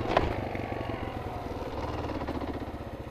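A Kawasaki KLR motorcycle engine runs at a high elevation during a failed wheelie attempt, making a steady, close, pulsing drone with one short sharp peak near the start.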